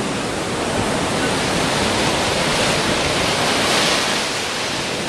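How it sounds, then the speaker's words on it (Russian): Big ocean surf after a week-long storm, waves around three meters high, making a loud, continuous roaring wash that swells slightly toward the later part, with no talking. "Вот теперь океан волнуется, волна, высота волны 3 метра."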